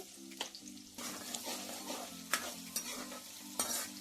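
Sliced onions with salt frying in a pan for a squid masala curry, stirred with a spoon. A steady crackling sizzle runs throughout, with sharp scraping strokes at irregular intervals. A low background hum sits beneath the frying.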